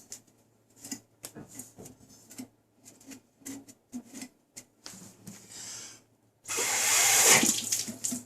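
Water splashing and running to wash plastic shards out of a broken PVC pipe on a main water pump, preceded by scattered handling knocks and clicks.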